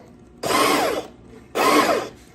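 A small juicer motor revs up twice in short whirring bursts, each about half a second, with a quiet pause between.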